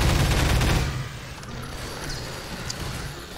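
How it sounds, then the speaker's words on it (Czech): Loud burst of rapid weapon gunfire in Half-Life 2, a dense volley lasting under a second before fading into quieter ambience with faint clicks. "Tohle zbraně je strašně hlasitá."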